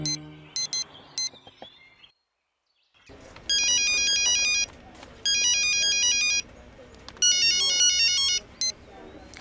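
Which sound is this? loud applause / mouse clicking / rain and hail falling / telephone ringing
telephone ringing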